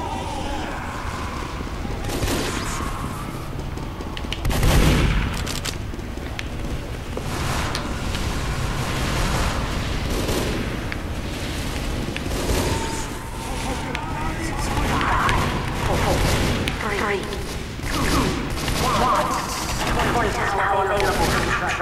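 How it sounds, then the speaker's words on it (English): Team Fortress 2 gunfire crackles almost nonstop over a dense, loud game mix, with rapid shots and heavier blasts layered throughout. "I'm shooting"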